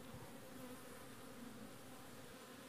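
Honeybees buzz steadily inside a small nuc hive, a dense, continuous drone close by with no pauses and no voices.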